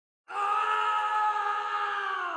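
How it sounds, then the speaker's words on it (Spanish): A loud, sustained scream of terror bursts in after a brief silence and holds steadily to the end, a shrill horror-story sound effect with no speech. "escuché unos gritos aterradores"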